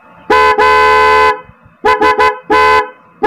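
Loud, nearby blasts from a dual contact car-type horn on a Bajaj CT100 motorcycle: one long honk, then a quick pair of short toots and another medium honk, sharp and harsh.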